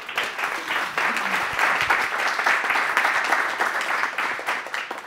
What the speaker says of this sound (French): Et je crois que ça s'applaudit.